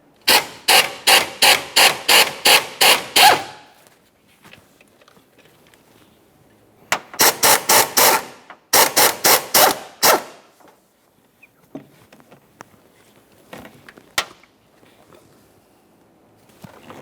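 A ratchet spins off two 13mm master cylinder mounting nuts on a 2004-2008 Ford F-150 with a 5.4L V8, in three sharp bursts of rapid clicking separated by quiet gaps and a few scattered clinks.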